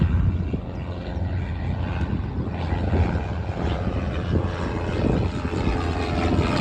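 A low-flying propeller airplane drones steadily overhead, a loud broad engine rumble sustained throughout.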